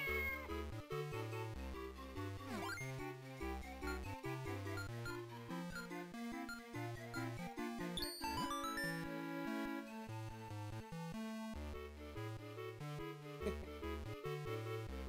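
A cat meows in the GBA video game The Legend of Zelda: The Minish Cap, a chiptune-style meow over looping game music that plays steadily throughout.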